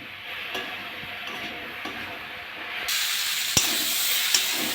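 Spices for a tilapia fish curry with banana and potato frying and being stirred in a pan, a steady close hiss and sizzle with occasional scraping knocks, growing louder partway through as a little water is added.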